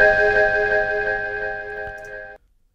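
Ambient sampled Rhodes electric piano sound with a delay tail, a sustained shimmering chord holding evenly and slowly fading before cutting off abruptly near the end, alone and fairly loud.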